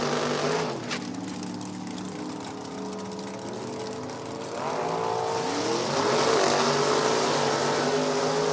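Drag racing at an NHRA Division 4 event at No Problem Raceway, with a 1927 roadster against a 1969 Nova: engines rumble at a distance, then rev and roar louder with rising, sweeping pitch as the cars launch.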